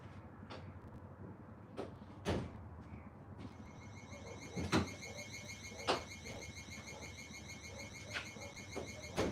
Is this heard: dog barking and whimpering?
no